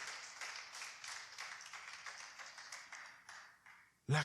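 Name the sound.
congregation applause in church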